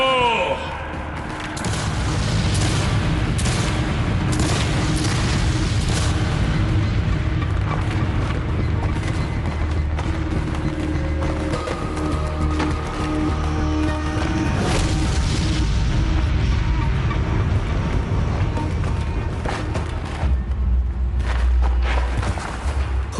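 Artillery cannon fire in a Battle of Gettysburg reenactment, heard as loud, continuous booming and crashing blasts that last throughout, with voices mixed into the din.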